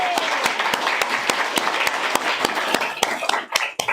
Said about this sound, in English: So can we give a round of applause to Joe?